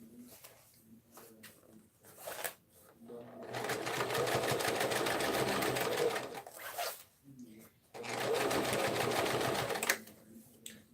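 Sewing machine edge stitching a tote bag, two long close bursts of fast rattling stitching separated by pauses, with a faint bird cooing in the background.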